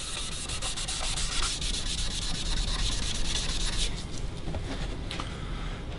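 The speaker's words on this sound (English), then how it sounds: "once we sand this color off" Steady close rubbing of sandpaper across a guitar top stained with leather dye, sanding the color off with 320-grit paper in continuous back-and-forth strokes, loud and without any voices.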